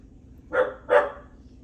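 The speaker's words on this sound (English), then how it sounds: "My dog will stop barking, please" A dog barks twice in quick succession, two short, fairly loud woofs about a third of a second apart, against a quiet indoor background.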